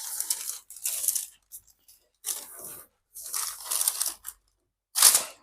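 Masking tape and paper pulled and torn while masking a VW Beetle engine bay and bumpers for epoxy primer: a series of short, close, crisp ripping bursts separated by brief pauses, with no voice.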